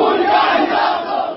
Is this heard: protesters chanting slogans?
yes